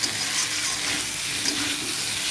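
Dried red chillies and spices fry in a pan with a dense, steady sizzle that stays loud and close throughout, with no voices over it.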